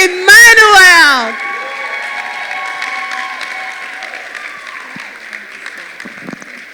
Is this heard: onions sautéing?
no